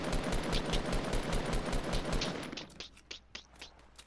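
Rapid revolver gunfire from Fortnite Battle Royale comes as a dense burst of loud shots, then thins out into a few scattered, quieter cracks toward the end.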